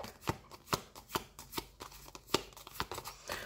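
A deck of cards is shuffled for a card reading, giving quick, crisp riffling flicks and soft slaps in an uneven rhythm, close and moderately quiet, with no talking over it.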